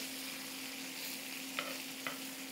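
Butter browning in a hot pan for pork chops gives a faint, even sizzling hiss under a low hum, broken by two brief utensil clinks near the end.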